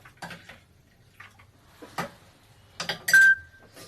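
A spoon stirs powdered milk into lukewarm milk in a pot, giving a few scattered metallic clinks and scrapes against the pot, quiet between the taps and ending with a sharper ring.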